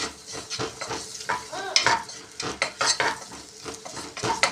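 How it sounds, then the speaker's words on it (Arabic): Chopped onion sizzles in hot oil in a pan while a spoon stirs and scrapes it in quick, repeated strokes, close and fairly quiet, with no voices. "هنشوح البصلايه في الزيت، هنفضل نقلب فيها"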